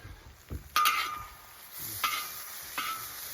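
Onions and green peppers sizzle softly on a discada while a utensil scrapes and stirs them in a few distinct strokes, the frying hiss rising after each push.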